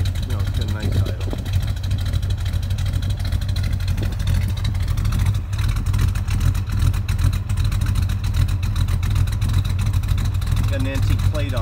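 A cold big block V8 in a 1973 Dodge Dart with a mild cam idles close and loud, a steady low throbbing rumble with a slight lope that continues unchanged under a voice.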